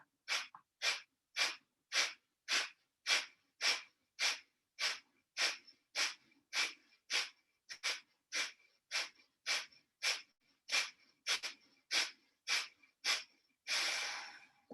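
Deep, forceful rhythmic breaths during a belly-breathing exercise, about twenty quick even pulses in a steady run, close and clear, ending in a longer breath.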